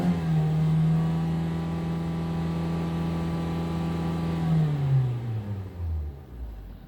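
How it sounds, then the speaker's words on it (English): A ten-year-old black Hyundai Sonata running on LPG revs up and holds a steady, smooth engine drone at close range, then the pitch sinks as the revs drop away near the end. "As you can see, the engine sounds very good."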